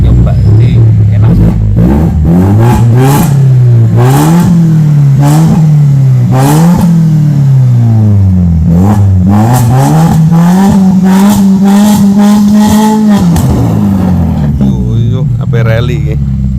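A manual BMW 116i with a modified exhaust revs hard again and again, its engine note swooping up and down in loud bursts, while people talk over it.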